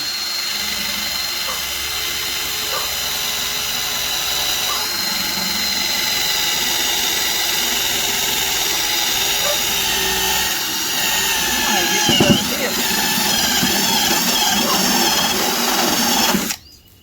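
A power drill whines steadily while boring holes into the cab roof of a Ford Super Duty F250, a loud, high, unbroken motor tone that runs for most of the stretch before cutting off abruptly near the end.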